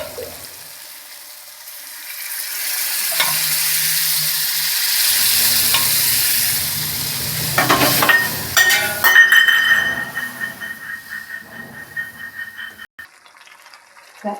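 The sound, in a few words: boiled dal added to cooked masala and stirred in pan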